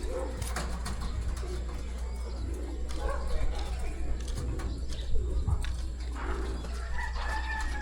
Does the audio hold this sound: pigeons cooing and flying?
yes